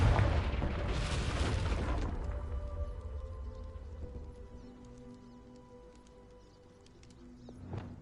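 A Confringo spell explodes in Hogwarts Legacy, a loud booming burst at the start that decays into a long low rumble and faint ringing tones, ending with a small thump.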